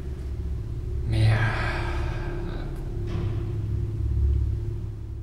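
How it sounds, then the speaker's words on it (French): A car engine starts up at a distance, a low rumble that swells in a soft burst and settles into a steady idle, with another faint surge later, under quiet background hiss. "C'est une voiture qui démarre."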